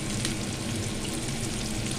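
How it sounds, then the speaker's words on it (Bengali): Chopped onions fry in a hot pan with a steady, loud sizzle that holds evenly from start to finish. No voices are heard. "দিয়ে ভালো করে ভেজে নেব।"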